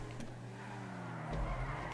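A car drifting through a turn in a GTA 5 Online race gives a low, steady engine drone that swells louder near the end of the short moment, with no talking over it.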